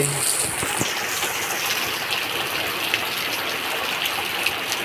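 Heavy rain pours down steadily with rushing, flowing water, a dense continuous wash of noise close by; faint voices murmur now and then beneath it.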